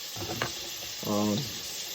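Steady hiss of chicken frying in oil runs throughout, with a brief clatter near the start and a short burst of harmonic noise later, fairly close.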